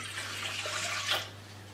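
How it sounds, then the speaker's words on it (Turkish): Half a litre of warm milk pours into a kneading bowl for simit and poğaça dough, a soft, steady, close liquid stream over a faint low hum. "Şimdi yarım litre ılık sütümü yoğurma kabıma alıyorum."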